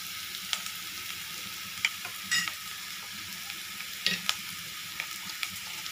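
Green chillies and curry leaves fry in a pan of hot oil, giving a steady close sizzle with a few sharp pops and crackles and occasional scrapes of stirring, with no voices.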